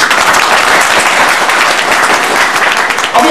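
An audience at a spiritual discourse breaks into loud, continuous applause, the dense clapping filling the whole stretch without letup.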